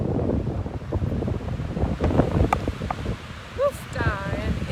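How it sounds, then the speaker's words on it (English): Strong coastal wind buffets the microphone in gusty rumbles on an exposed shoreline with whitecaps, mixed with faint surf, and a voice speaks briefly near the end. "it is windy and it is starting to rain"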